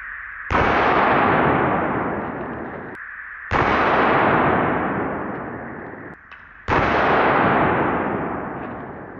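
Three loud gunshots boom in turn, each struck against a watermelon on a sawhorse with the bullets ricocheting off steel, every blast sharp and close and then decaying slowly over roughly three seconds, with no talking.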